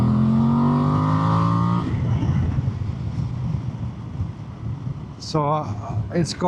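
Voge DS800X Rally motorcycle with a standard airbox, its engine revving up toward 6,000 rpm during a quick ride, a rising harmonic drone fading into wind rush, with someone speaking briefly near the end.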